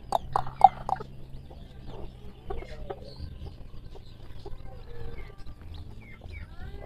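Fancy chicken chicks in a backyard peep and cheep in quick, faint high calls, with a louder burst of chirps at the start and softer scattered peeps over low background noise.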